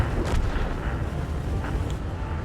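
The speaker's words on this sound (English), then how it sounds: "big caliber guns going at it" Big caliber tank guns firing in the World of Tanks video game, heavy booms at a moderate distance over a constant rumbling battle backdrop.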